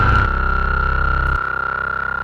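Korg Prologue synthesizer holding low notes through its low cut filter, a steady sustained tone whose deep bass body thins abruptly partway through, alone with no voices.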